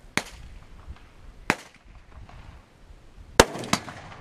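A Tommy gun fires single sharp, loud reports outdoors: two isolated shots, then a close pair of cracks near the end, with quiet pauses between.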